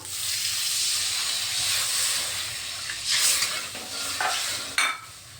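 Loud, steady hiss of water poured into a hot pan of lightly fried ingredients for a pabda fish dish, with a few sharper bursts of sizzling toward the end.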